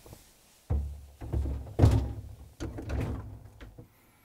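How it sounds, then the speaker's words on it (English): A Frigidaire/Electrolux refrigerator door being lowered onto its bottom hinge pin gives a series of close, dull thunks and knocks, with four heavy contacts and short scraping rattles between them and no talk. "we're going to turn the door over. And we're going to install it on the bottom hinge pin"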